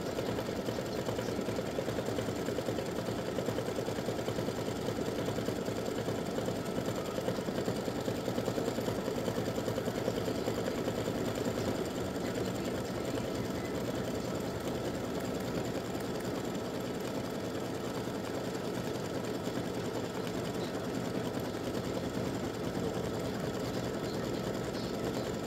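An embroidery machine stitches out tic tac toe game pieces, a steady mechanical whir and rapid needle chatter running continuously at close range with no voices.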